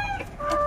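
Laying hens on a poultry farm clucking, a short burst of several overlapping bird calls up close, with tonal cackles rising over a busy flock background.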